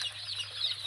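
Tiger chicken chicks at an agro farm in Sonagazi, Feni, clucking and peeping as a faint, steady high chatter through the whole second over a low background hum.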